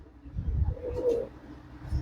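A female Andhra pigeon gives a soft, low coo nearby. The sound is quiet and comes in a few rolling pulses with a brief, faint tonal note in the middle.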